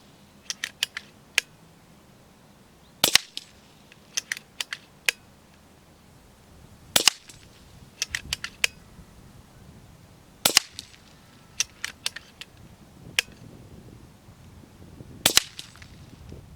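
Sharp snapping shots from an FX Crown air rifle firing H&N .218 slugs at just over 800 feet per second: four loud, close cracks spaced several seconds apart, with lighter mechanical clicks between them.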